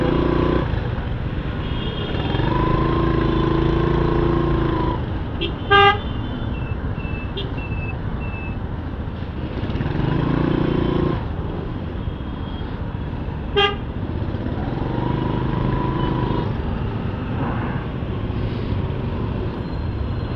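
Dense Dhaka road traffic heard from a motorcycle, a steady engine and traffic roar with swelling passes and two short, sharp horn toots, no talk.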